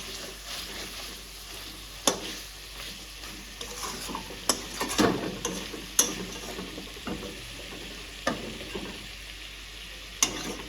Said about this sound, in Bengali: এই তেলেই আর কি ভালো করে কষিয়ে নিচ্ছি প্রথমে